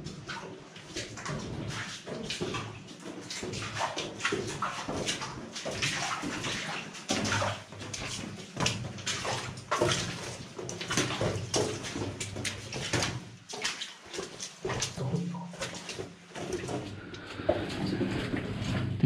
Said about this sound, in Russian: И водичка капает.